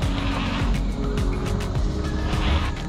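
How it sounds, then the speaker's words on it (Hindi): A car's wheels spin and slip in sand as it sits stuck, giving a continuous loud roar of engine and churning tires throughout, close by and without clear talk. "भाई ये रेत में फिसल रही है"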